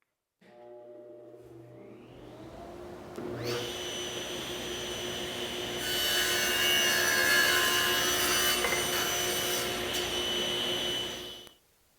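A table saw with a picture frame sled cuts miters in wood for an office corner desk: the motor spins up, then a loud sustained whining cut builds, peaks mid-way and winds down, with no talk.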